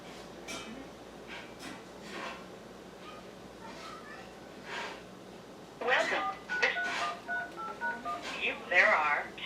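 Telephone keypad tones beep in a quick run of short dialing sounds while calling back into a conference line, coming in after a stretch of low, muffled background noise.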